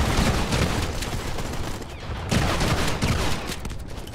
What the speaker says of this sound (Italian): Lanciamo una granata più a distanza.